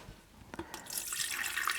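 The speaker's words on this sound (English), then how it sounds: "I'm just going to pop the water in here" Water pours into a Ninja KT200 electric kettle, a few light knocks close up giving way to a steady, hissing splash of filling liquid.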